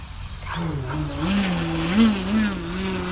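A Skywing 67-inch ARS 300 RC airplane hovers nearby, its engine holding a steady droning tone that rises and dips slightly in pitch, with talk faintly underneath.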